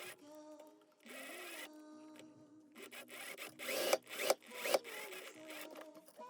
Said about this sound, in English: I'm going to match up the rest of this front dividing seam and sew the two pieces together